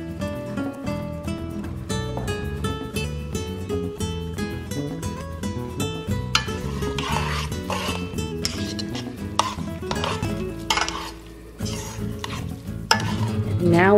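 Spaghetti aglio e olio with parsley and olive oil being tossed and stirred in a pan, a steady sizzling scrape with frequent metallic clinks of utensil on pan, close and continuous, no talking.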